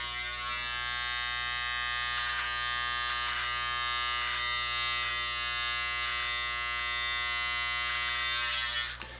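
An electric beard trimmer trims mustache hairs with a steady close buzzing hum, faint crackles of cutting here and there, before switching off at the end, with no talking.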